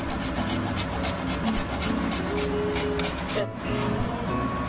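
Whole nutmeg rasped over a grater for sweet potato halwa, giving a steady, close, continuous scraping that runs without pause and with no talk.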